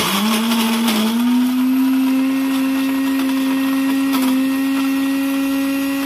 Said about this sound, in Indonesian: Ini blendernya saya pakai Cosmos 3-in-1.